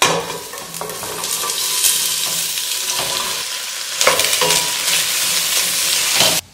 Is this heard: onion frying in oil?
yes